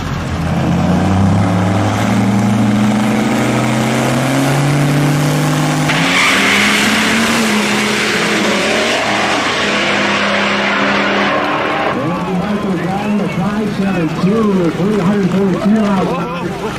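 A race truck roars down a drag strip at around 150 miles per hour, loud engine howl rising in pitch as it accelerates, continuous and close, with a commentator talking over it.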